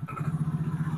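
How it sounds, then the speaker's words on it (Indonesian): A faulty motorcycle that starts but will not move idles close by, its engine putting out a quick, even low-pitched pulsing throb, quiet and steady with no voices. "Ini sudah hidup ya mesinnya"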